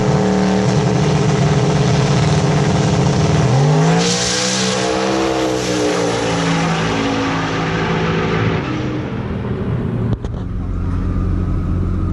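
An LS-powered drag car with a ball bearing turbo and hydraulic cam screams down the track at full throttle, a loud sustained engine roar that climbs steadily in pitch through the run and stays close throughout.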